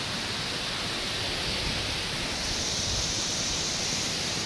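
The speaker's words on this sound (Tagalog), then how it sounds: "Ang ganda dito sa loob ng waterfalls nila." Mijara Falls in Taiwan gives a steady, loud rush of falling water. The hiss is dense, unbroken and close, with no voices.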